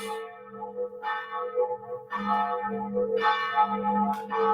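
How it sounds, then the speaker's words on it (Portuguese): A cathedral bell rings with deep, sustained tolling tones, several strikes overlapping and ringing out with a rich, resonant hum. "Deixa o sino tocar."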